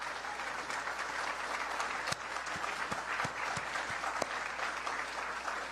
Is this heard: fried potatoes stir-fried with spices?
no